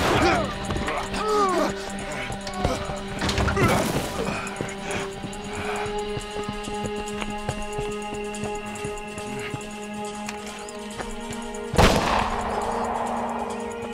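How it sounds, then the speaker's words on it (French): A single sharp gunshot cracks out amid tense, noisy surroundings with voices and background hum, followed by a lingering ringing tail. "Un coup de feu."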